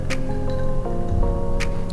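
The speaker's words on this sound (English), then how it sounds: "So this is my ice cold water, and then we dip it in" A candied strawberry tanghulu coated in hot sugar is dipped into ice-cold water, giving soft squishy, dripping liquid sounds with brief splashy crackles up close, with no talking.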